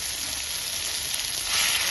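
Ground kharkol leaf paste sizzles in hot oil, a dense, even frying hiss that stays steady and close throughout, with no one speaking.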